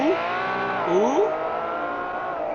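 Race cars on the Sepang circuit howl past in a high-pitched engine wail, revs climbing and dropping through gear changes, heard from a distance and fairly loud.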